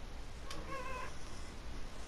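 A single short meow from a female cat in heat, moderately distant and faint over a constant hiss of background noise, followed by quiet.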